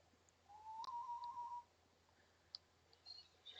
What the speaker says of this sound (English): nobody's gonna notice a high elf whistling for a horse out here